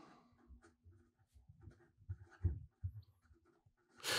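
A Sailor 1911 gold-nibbed fountain pen writing on paper at different angles, including upside down, giving soft, close scratchy strokes in an uneven rhythm and ending on a louder rustle.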